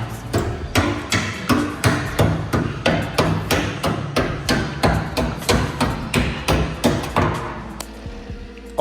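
A hammer strikes sheet-metal flaps on a Nissan 350Z quarter panel, bending them into place. Around twenty sharp, ringing metallic blows land close by at a steady, fairly quick pace, with a brief pause near the end.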